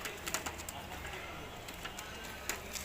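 A male Giribaz pigeon coos softly in a few short, throaty bursts, faint and close by against a quiet background.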